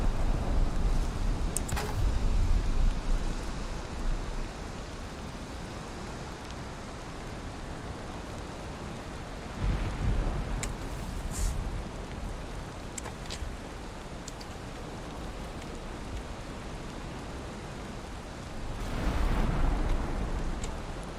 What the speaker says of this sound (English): the rain will put it all out now